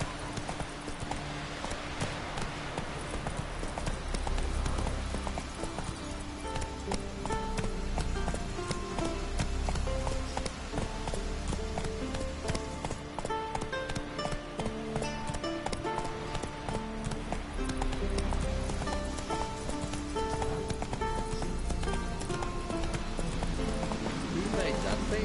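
Horse Roach's hooves clip-clopping in The Witcher 3, a steady rhythmic gait carrying under background game music and ambience, with voices talking over it.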